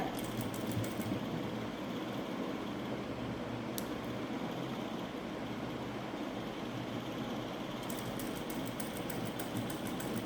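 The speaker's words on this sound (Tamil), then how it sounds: "கரெக்டான கேப்பில் கரெக்டான இடத்துல அப்படியே தையல் கொடுத்துட்டே வாங்க" A sewing machine runs in a steady, unbroken drone while stitching piping and potli buttons onto fabric, a close, even mechanical hum with no talk over it.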